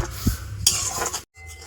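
A spoon clinks and scrapes against a bowl as powdered sugar is stirred into thickened milk for sandesh, a short burst of close metallic stirring with a brief gap near the end.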